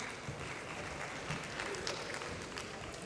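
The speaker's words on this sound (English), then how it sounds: "A round of applause for these beautiful artworks." At the ABH Grand Finale, an audience applauds artworks with a soft, distant wash of clapping that stays fairly even across a few seconds.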